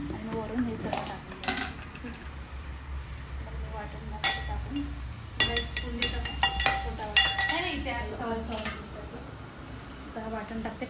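Onion-coconut paste is spooned into a pan of cooked onions for a prawn curry, with repeated metallic clinks and scrapes of a spoon against the cookware and someone talking throughout.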